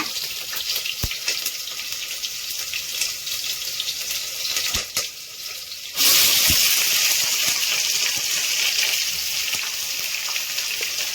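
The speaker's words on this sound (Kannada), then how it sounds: "ಈರುಳ್ಳಿನ ಚೆನ್ನಾಗಿ ಕೆಂಪಗೆ ಬರೋವರೆಗೂ ಬಾಡಿಸ್ಬೇಕು" Sliced onions and chopped green chillies frying in oil and ghee inside a pressure cooker give a steady, dense hiss that swells louder partway through and carries on without talk.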